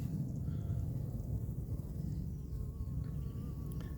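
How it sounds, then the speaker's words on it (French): Honeybees at a hive installed on the Île Saint-Louis in Paris, working at six in the morning, make a continuous close, dense buzzing hum that holds steady throughout. "Les abeilles travaillent à 6 heures du matin."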